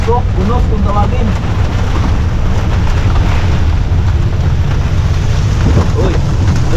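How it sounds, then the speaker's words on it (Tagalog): Heavy typhoon rainstorm roaring steadily around a vehicle on the road, a dense broadband wash of rain and wind buffeting, loud and continuous, with voices talking over it. "Masok, unos kung tawagin."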